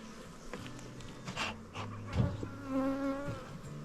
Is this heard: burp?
no